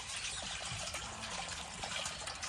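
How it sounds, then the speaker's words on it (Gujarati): Borewell water running into a container on a farm, a steady close trickle and gush of liquid filling continuously without pause, with no talk. "આ બાજુ પાણી ભરાય છે."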